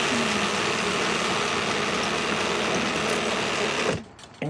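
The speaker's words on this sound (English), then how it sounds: "It's an automatic hose winder." An automatic hose winder mounted on a garden fence reels in a garden hose with a steady, loud mechanical whir and hum that runs continuously, then stops abruptly near the end, followed by a brief clunk.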